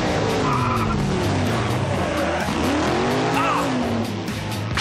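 Muscle cars driven by firefighters skid and squeal their tires, with loud, continuous engine roar and rising and falling screeches throughout, a voice faintly mixed in underneath.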